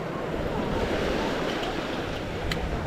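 Ocean waves break hard on a Gulf of Mexico beach at Pass-A-Grille after a hurricane, heard as a continuous loud roar of surf with wind noise buffeting the microphone and no pauses.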